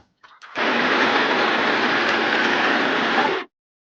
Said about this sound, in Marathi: आता मी हा मिक्सरवर लावून घेणार आहे.